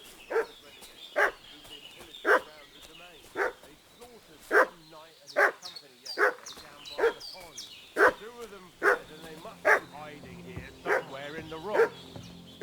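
A dog barks repeatedly in Kingdom Come Deliverance II, sharp evenly spaced woofs at moderate distance over a steady game ambience, with other voices faint in the background.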